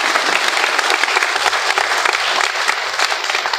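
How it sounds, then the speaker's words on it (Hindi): Audience applause at a Hindu spiritual discourse by Vasant Vijay Ji Maharaj: a dense, steady wash of many hands clapping together, loud and sustained throughout with no talk over it. "इसके लिए तो ताली होना ही चाहिए"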